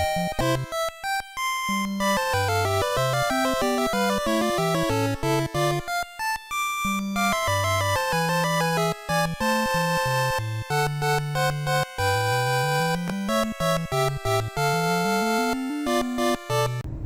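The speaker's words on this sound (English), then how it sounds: "The music in the NES version sounds like this." Chiptune 8-bit background music from the NES version of Dragon Quest III plays continuously, bright square-wave melody over a bouncing bass line, loud and steady.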